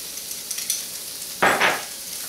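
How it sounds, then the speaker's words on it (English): Fresh garlic frying in olive oil for a chicken burrito gives a soft steady sizzle, then a loud sudden burst of popping and spitting near the end, close up with no talking. "Garlic tends to do that when you cook it, tends to pop."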